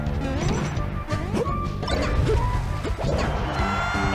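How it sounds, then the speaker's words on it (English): Loud, rapid forward smash hits land in a Super Smash Bros. Melee match, a dense run of crashing whacks and swooshes over continuous game music and effects, with no voices. "I love Dan's forward smashes in this matchup."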